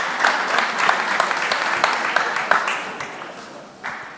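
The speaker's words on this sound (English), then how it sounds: "Give him a round of applause." A small audience at a mentorship session gives a round of applause, moderate clapping with distinct individual claps that thins out toward the end.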